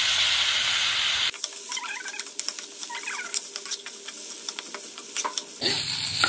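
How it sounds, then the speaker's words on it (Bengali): Milk cooking down in a pan with turmeric and tomato ketchup for a dried pea gugni curry, heard up close as a steady sizzle and bubbling hiss with occasional stirring scrapes. "এটা আমার দুধটা কষানো হচ্ছে।"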